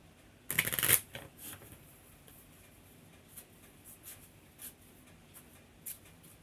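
A quick riffle shuffle of playing cards, a sharp fluttering burst up close, followed by soft scattered taps and handling sounds in a quiet room.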